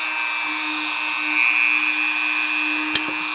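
A Dremel 300 rotary tool runs steadily at speed 6, a continuous high whine with a slight swell midway and a brief sharp click near the end, with no voices.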